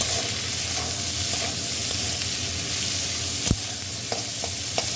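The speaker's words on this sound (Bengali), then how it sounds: "পেঁয়াজ কুচি, রসুন কুচি, কাঁচা লঙ্কা এখানে দিয়ে দেবো। এটা একটু ভাজা ভাজা হয়ে যায়" Chopped onion, garlic and green chili fry in a pan for a dried-fish dish with a steady, close, fairly loud sizzle, broken by one sharp clank partway through and a few soft knocks.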